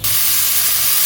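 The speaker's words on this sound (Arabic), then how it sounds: "نفرغ البخار. أهم شيء تفريغ البخار." Steam vents from a pressure cooker after cooking rice dish (madghout), a loud, steady broadband hiss that starts abruptly and continues without pause, close and alone.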